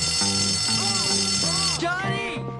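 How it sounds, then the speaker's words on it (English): A school fire alarm rings in the video game Bully, a loud, continuous electronic tone under game music and sound effects. "Someone pulled the fire alarm!"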